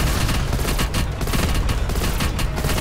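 Rapid gunfire in the zombies mode of the video game Call of Duty Black Ops Cold War, a dense steady burst of shots filling the whole short stretch.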